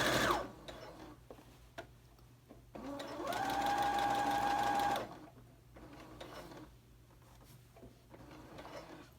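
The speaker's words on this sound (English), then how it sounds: "Begin sewing and backstitch." A sewing machine stitches a seam on a high-low wrap coat dress, with a steady mechanical run of about two seconds midway, framed by quieter handling sounds and short starts of stitching.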